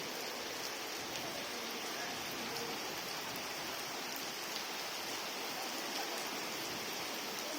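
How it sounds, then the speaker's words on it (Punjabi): Heavy rain pours down during bright sunshine, a steady, dense hiss of drops hitting surfaces that stays even and loud from start to finish with no voices over it. "ਧੁੱਪ ਵਿੱਚ ਇੰਨੀ ਤੇਜ਼ ਮੀਂਹ ਸੂਰਜ ਸਾਹਮਣੇ"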